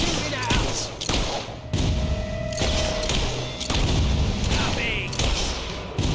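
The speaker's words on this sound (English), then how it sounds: "Suckers shooting at us!" Rapid gunfire and heavy thumps from the Fable 3 video game pound loud and close throughout, with overlapping shots and booms in a dense, steady barrage.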